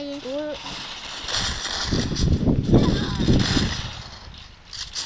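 Gunfire crackles in the Free Fire video game as a burst of shots and heavy impacts rises mid-clip, with an in-game tone at the start and a fainter flare near the end.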